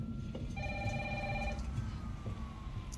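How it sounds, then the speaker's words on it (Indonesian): An electronic telephone in the Resident Evil 3 video game rings once in a short, steady tonal burst over a low background rumble from the game. "ada telepon ada telepon oke kita disuruh mengangkat telepon"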